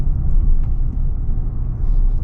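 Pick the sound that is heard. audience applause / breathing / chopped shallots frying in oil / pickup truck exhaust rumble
pickup truck exhaust rumble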